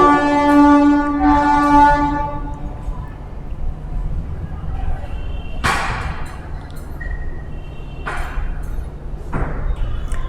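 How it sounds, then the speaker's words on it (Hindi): A train horn sounds at the start and the passing train rumbles steadily beneath, heard from nearby outdoors with a few loud thumps and clanks later on; someone talks during part of it. "ट्रेन आ रही, थोड़ा वेट कर लो।"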